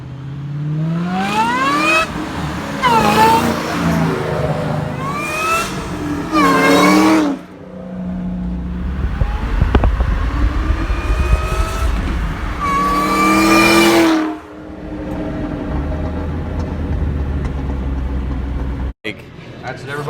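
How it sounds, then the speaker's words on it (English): A supercharged Ford Cobra Terminator engine revs repeatedly, its blower whine rising and falling in sharp sweeps between throttle blips, loud and close, with a pause of lower idle between bursts. "You can't beat the whine though of a Terminator"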